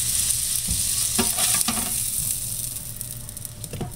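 A footlong frank laid flat side down on cooking bacon sizzles steadily, a close, continuous frying hiss with a few brief clicks and scrapes along the way, and no voices.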